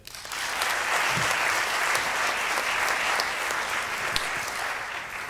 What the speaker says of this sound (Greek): Δώσε μου ένα χειροκρότημα.